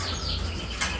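Small birds flutter their wings inside a two-metre aviary flight cage, a soft continuous rustle of flapping with a brief louder burst near the end, and no talking.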